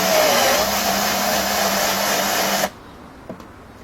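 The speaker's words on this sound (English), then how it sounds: "If I put that in the drill, we go on to a high torque setting, put that in the screw and press down a bit." A power drill set to high torque drives into a screw while being pressed down, a loud steady whine running for about two and a half seconds before cutting off abruptly, followed by a faint click.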